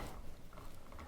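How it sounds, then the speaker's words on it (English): A wire nut twisted onto joined electrical wires while a ceiling fan is wired in. It gives a faint, steady gritty rasp of plastic grinding on wire that runs the whole moment without clear pauses. "I'm going to take this wire nut, and I'm going to screw it on"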